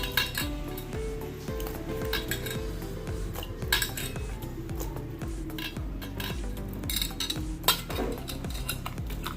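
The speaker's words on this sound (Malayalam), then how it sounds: "ഇനി സോയാബീൻ കഴുകി വാരി എടുക്കണം" Soybeans being washed and scooped by hand out of a bowl while making soybean and white chickpea vada, with continuous clinking of a utensil against the bowl, wet stirring and shuffling throughout, and a few sharper knocks.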